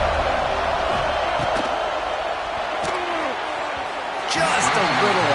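Stadium crowd noise in the NCAA football video game at the start of the second half, a constant roaring wash from a large crowd under a commentator's voice, with a few brief thuds and a rising swell near the end.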